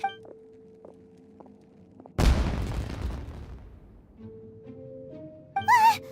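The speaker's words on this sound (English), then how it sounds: "Was that an explosion? It sounded like fireworks." A firework blast in the Genshin Impact video game: one sudden loud burst with a crackling, rumbling decay lasting about two seconds, set between quiet musical tones and a short rising whistle-like sound near the end.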